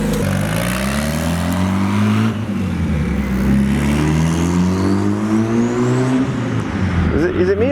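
The Pink Widow car's engine running close and loud, a rough steady idle rising and falling through several revs that climb toward the end, with voices talking faintly over it.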